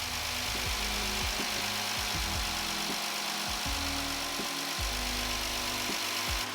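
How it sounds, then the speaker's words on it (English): A Dodge Charger with a Pentastar 3.6-liter V6 idles with its radiator cap off after an oil filter housing replacement, making a steady close engine hum with a faint repeating tick and a hiss on top, no voices. "Let the car idle for 10 minutes."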